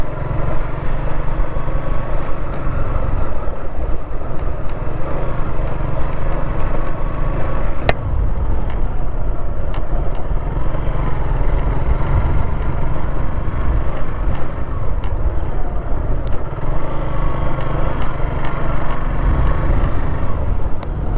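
A motorbike engine drones steadily while riding down a riverside track below the road near the Teesta bridge in Gaibandha, a continuous near rumble with occasional clatter and no talking.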